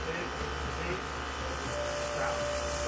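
A vibrating health machine gives a continuous, even electric buzz with a low steady hum beneath it, while a voice murmurs faintly in the background.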